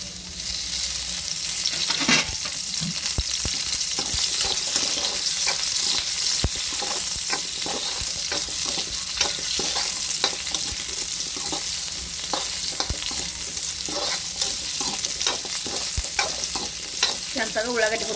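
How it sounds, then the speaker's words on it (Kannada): Onions fry in hot oil for a North Karnataka green chilli chutney, making a loud, continuous sizzle with constant stirring scrapes close by. "ಅದ್ರಾಗ ಉಳ್ಳಾಗಡ್ಡಿ ಚಂದಾಗ ಹುರ್ಬೇಕು"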